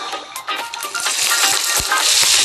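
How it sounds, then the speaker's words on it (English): Prawns hit hot olive oil in a pan and set off a loud, steady sizzle that keeps building across the short moment, with no talking. "Anything less than that sizzle, when you put that first prawn in there, don't put them in."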